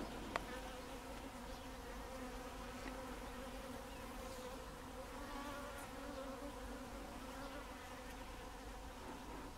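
Honey bees flying out of the hive on their February cleansing flight, a soft, continuous swarm buzz with overlapping wingbeat hum, faint and steady, with one brief click near the start.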